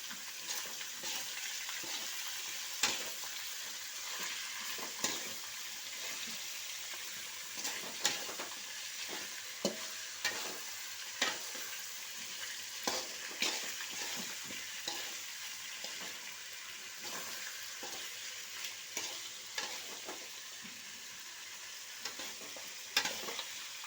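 Chicken pieces fry and sizzle steadily in a pan for biryani, with a continuous hiss broken by regular scraping clicks of a spoon stirring them, close and unaccompanied.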